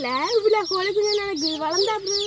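Hens kept at a home in Tamil Nadu cluck and chatter continuously, close and loud, with rising and falling calls overlapping throughout.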